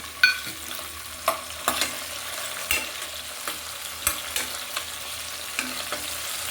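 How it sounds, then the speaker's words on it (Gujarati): Chopped tomato fries over onions in a pan for kaju gathiya sabzi, a soft steady sizzle broken by repeated sharp spoon taps and scrapes as it is stirred. "ટમેટાને પણ થોડીક વાર આમ જ આપણે મિક્સ કરીને હલાવતા રહીશું"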